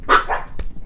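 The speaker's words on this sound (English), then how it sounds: "I got a package from the mailman, and my dogs must think it's treats for them." Household dogs bark at a package just delivered by the mailman, a couple of quick, loud close-up barks followed by a thump.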